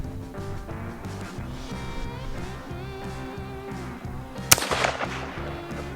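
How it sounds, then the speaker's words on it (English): A single sharp .22 magnum rifle shot cracks out near the end during cottontail rabbit hunting, loud and close, over a steady low rumbling background. "We're shooting pretty close quarters here with a little small caliber 22 mag."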